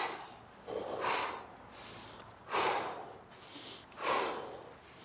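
Heavy, forceful breathing from a man during a full-body stick workout, with several loud, rhythmic exhales and inhales close to the microphone and no talk.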